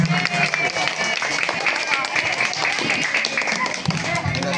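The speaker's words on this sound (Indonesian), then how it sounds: "Tepuk tangannya mana?" An audience at a Karawang police anniversary ceremony for a neighborhood security-post competition claps together, a dense, steady patter of many hands mixed with crowd murmur and a speaking voice.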